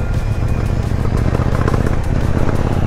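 KTM Duke 790 twin-cylinder motorcycle engine running steadily up close, a continuous loud low rumble with a pulsing, tapping beat throughout.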